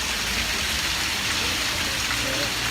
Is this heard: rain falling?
yes